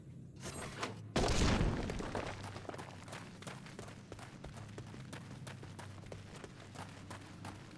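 A loud explosion bursts out suddenly during a boss fight in Final Fantasy XIV, a broad blast that decays slowly into a steady bed of game noise and scattered thuds.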